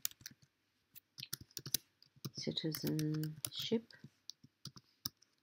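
A search being typed on a computer keyboard, producing irregular bursts of sharp, close clicks while a person talks over them.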